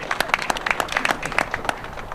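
An audience claps briefly at a downtown railyard rail-breaking ceremony, with a short burst of scattered, uneven handclaps from a modest crowd.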